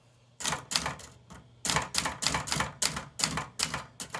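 Rapid, crisp keystrokes on a mechanical typewriter, close up and loud, arrive in clustered runs of clacks after a short quiet opening, with no voices.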